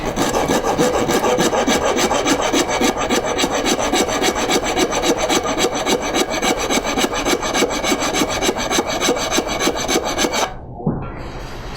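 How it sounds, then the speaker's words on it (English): A half-round rasp files a groove into wood for a cigar box guitar, a loud, close, rapid rhythm of coarse scraping strokes that runs steadily before stopping abruptly near the end. "you take a half-round rasp and you rasp a groove on the nail side of that mark"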